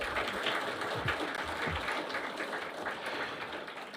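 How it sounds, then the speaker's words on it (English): A community candidate forum audience gives a round of applause for the candidates, a continuous dense wash of clapping that holds steady and eases slightly toward the end. "let's give all the candidates a big round of applause"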